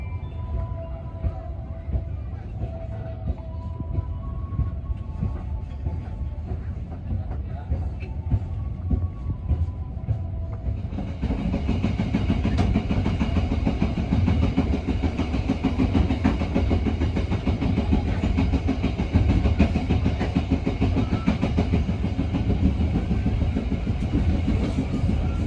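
A local train running from Rangkasbitung toward Merak gives a continuous loud rumble and rattle from inside the carriage, swelling and growing brighter partway through as the ride picks up.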